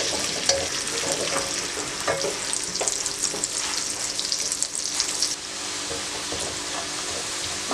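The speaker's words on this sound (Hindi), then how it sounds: "अब आपने इसी गर्म ऑयल में प्याज डाल देनी है और प्याज को आपने हल्का बादामी होने तक फ्राई करना है।" Onions fry in hot oil for a masala chickpea curry, giving a steady, close sizzle with crackles and faint stirring scrapes throughout. The sizzle softens slightly near the end, and no one speaks.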